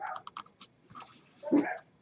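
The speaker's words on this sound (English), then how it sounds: "I hear them dogs barking outside." Dogs bark outside, giving a few short yips and one louder, fuller bark. The sounds come through muffled, as if heard from indoors at a moderate distance.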